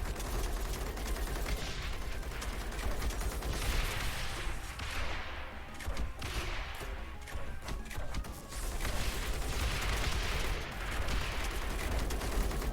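Ballista towers in the Rogue Tower video game fire again and again, a dense rattle of thuds and cracks swelling and fading in waves over continuous game noise.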